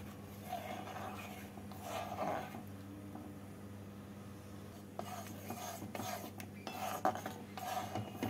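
Moong dal lentils stirred in a pot with turmeric and hot water, giving soft, intermittent clinks and scrapes of a spoon against the metal, quiet and close with no talking.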